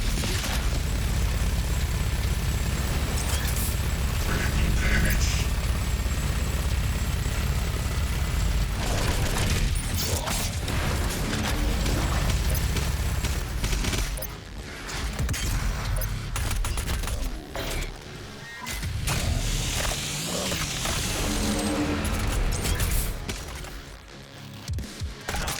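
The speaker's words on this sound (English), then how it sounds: "Here comes the mobile turret." Mobile turret fire in the video game Doom Eternal: a loud, dense, continuous barrage of rapid shots and explosive booms with mechanical clatter, dipping briefly midway before resuming at full intensity.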